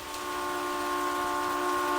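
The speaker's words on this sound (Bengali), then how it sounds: "ফোন ধরতেই শুধু ট্রেনের চাকার শব্দ।" A train passes with a steady, loud, sustained tonal drone like a whistle or ringing rails over a rushing rumble, building slightly and holding constant, with no voices.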